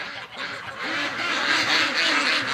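A flock of about fifty female ducks quacks loudly and continuously in a winter yard, a dense overlapping chorus of harsh calls close by, with a faint voice briefly underneath.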